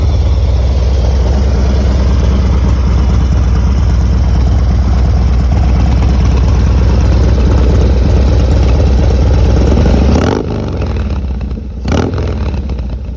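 A Harley Dyna motorcycle engine runs steadily and loud with a deep, throbbing idle, close by; near the end it briefly cuts out and picks back up.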